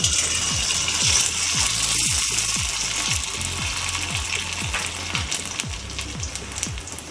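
Homemade sago papad frying in oil, one at a time, a steady bubbling sizzle with a string of regular low thumps and clicks running through it, continuous and fairly loud with no voices.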